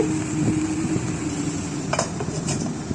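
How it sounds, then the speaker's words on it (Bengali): Cabbage being mixed with ginger and green chili paste in a pan, giving a continuous soft scraping and rustling with a few brief metallic clinks near the end, close up, no talking. "আদা কাঁচা লঙ্কাটাও ভালো করে আমি মিশিয়ে নিচ্ছি বাঁধাকপির সাথে"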